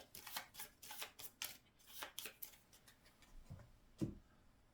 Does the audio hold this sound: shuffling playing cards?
yes